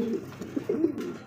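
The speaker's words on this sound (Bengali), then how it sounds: "দেখেন কবুতর" A pigeon from a fancy breeder's pair coos softly and close by, with a few short, low throaty coos in quick succession.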